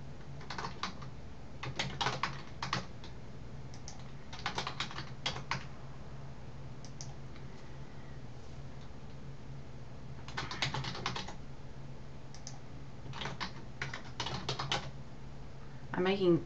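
Keys on a computer keyboard are tapped in quick bursts of clicks separated by pauses, quiet and close over a faint steady hum.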